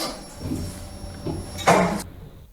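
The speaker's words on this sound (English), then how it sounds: "Doors opening." Lift doors slide open in a shopping centre, soft mechanical rumbles followed by a louder brief rushing whoosh, then sudden quiet.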